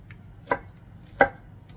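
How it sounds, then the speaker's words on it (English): A knife chops red onion and other vegetables for a broccoli salad on a cutting board, two sharp, close thuds about a second apart over faint background hum, with no talking. "This is the most work, is just chopping up these veggies."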